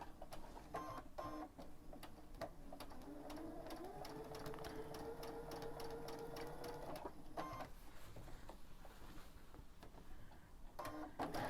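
A sewing machine runs steadily with a fast, even mechanical ticking and a motor whir while stitching a Dresden Plate quilt with a short stitch, continuous and close throughout.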